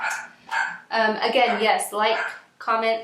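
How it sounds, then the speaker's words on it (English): Dogs bark at home, mixed in with a person talking steadily in the foreground, their yips and barks partly buried under the voice. "Sorry about my dogs."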